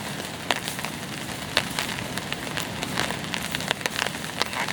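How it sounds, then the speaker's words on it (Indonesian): Rain falling on a campsite, a steady soft patter with scattered sharper drops tapping on nearby surfaces, faint and continuous with no voices. "Hujan-hujan."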